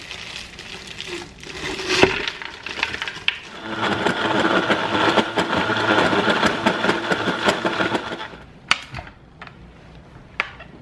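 A kitchen blender whirs steadily for about four seconds while making a smoothie, with clicks and clatter of handling and setting down containers before and after; no talking.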